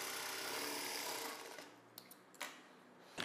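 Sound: sewing machine stitching a blouse

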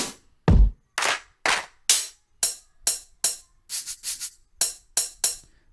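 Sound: drum machine beat with hi-hat

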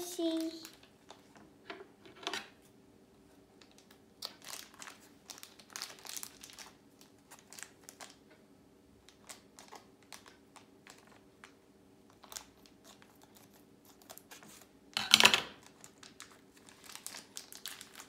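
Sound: opening crinkling wrapper packets

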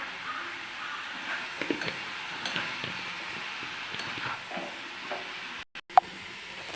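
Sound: stirring yam flower dish frying in a pan

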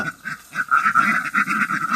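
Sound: laying ducks quacking

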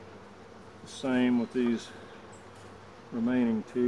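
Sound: honeybees in a hive

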